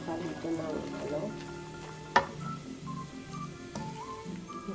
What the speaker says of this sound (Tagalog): pwede nyo na pong haluin para magpantay yung pagkakalito ng ano